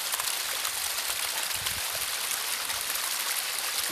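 Clear mountain stream water rushes and splashes steadily close by, a dense, continuous hiss with small gurgles and no voices.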